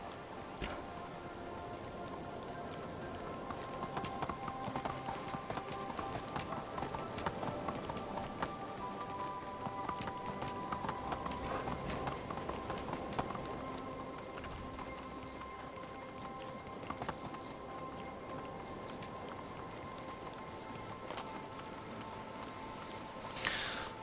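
Hooves of a horse gallop in Medieval Dynasty, a steady quiet clip-clop rhythm running throughout, fairly faint and continuous with no talk over it.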